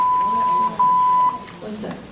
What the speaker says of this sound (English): What's that? Okay. An alert on a phone.